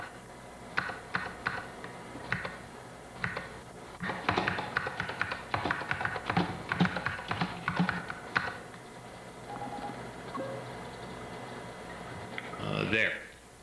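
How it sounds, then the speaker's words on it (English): Keys on a computer keyboard clatter in short, soft bursts as commands are entered in an office, close and faint, with a brief pause and a small rustle near the end. "Let me type a few commands."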